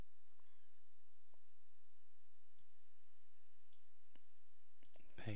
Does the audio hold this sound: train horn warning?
no